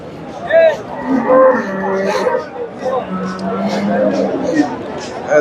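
A large Friesian dairy cow at a busy cattle market gives several loud, close, drawn-out moos, with a murmuring crowd and nearby voices underneath.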